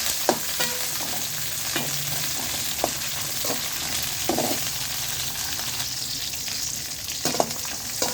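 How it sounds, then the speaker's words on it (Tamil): Cleaned pirandai (veld grape) sautéing in oil in a pan for chutney, giving a constant bright sizzle broken by occasional clicks and scrapes of stirring, with no talking. "பிரண்டையை நல்லா வதக்கி விட்டுக்கலாம்."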